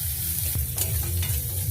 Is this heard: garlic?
yes